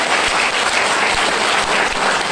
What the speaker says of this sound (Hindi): ताली जोरदार बजाइए।